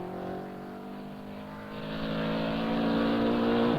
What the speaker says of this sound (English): And putting a car through these corners like Andrew is doing, it's a very good line.